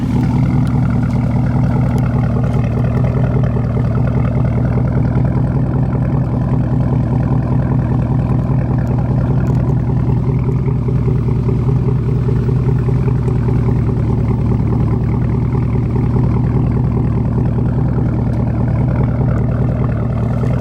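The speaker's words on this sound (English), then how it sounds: "just a really nice rumble to it" A deep, steady exhaust rumble from an idling Chevrolet Trailblazer SS V8, loud and close, holding constant for about twenty seconds with no talking.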